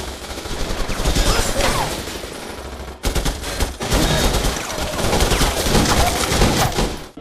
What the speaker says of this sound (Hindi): गोलियों की गूंज सुनाई दी।